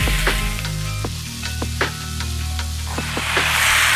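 Noodles tossed in a hot wok with napa cabbage and choy sum, giving a steady close sizzle with repeated sharp scraping and clatter of stirring through it.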